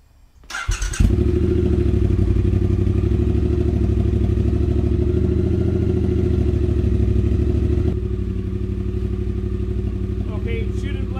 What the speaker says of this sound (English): let's hear a sound, an audio check of it with the cat installed and the drag pipes that I've got in